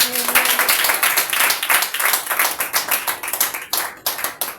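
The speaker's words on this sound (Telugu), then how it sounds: "చప్పట్లు కొట్టరా?" Audience at a Christian gathering in Mannavarappadu, Nellore district, claps together in a loud, steady rhythm of sharp, close hand claps, with a faint voice underneath.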